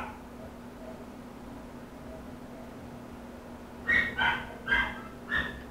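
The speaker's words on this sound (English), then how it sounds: "It's the neighbor's dog." A neighbour's dog barks four times in quick succession from a moderate distance, following several seconds of quiet room hum with a faint steady tone.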